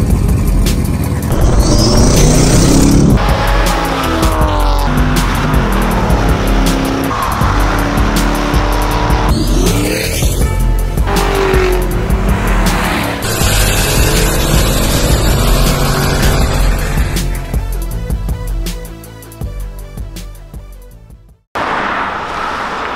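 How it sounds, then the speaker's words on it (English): A turbocharged 6.0 LQ4 LS V8 swapped into a BMW E36 roars under load on a chassis dyno on pump gas, with loud sustained revving pulls, sharp drops and a brief cutoff near the end. "we're throwing the E36 turbo LS swap on the dyno"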